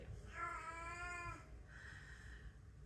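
A hungry house cat gives a drawn-out, wavering meow, then a shorter, softer second call after a brief pause, both close by over a low room hum.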